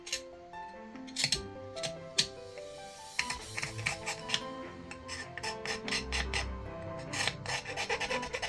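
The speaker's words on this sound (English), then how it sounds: "I gave the plastic handle some care, scraping away any paint and grime." A plastic knife handle being scraped to strip paint and grime, giving steady raspy scraping strokes up close, repeated in quick uneven bursts with faint clinks, with no talk.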